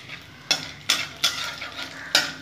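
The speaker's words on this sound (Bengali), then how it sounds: "ভালো করে নেড়ে নেবো।" Whole spices such as bay leaf, cardamom, cinnamon and cloves stirred in a cooking pan for an omelette curry, with four sharp scraping strokes of a utensil against the metal over a faint background sizzle.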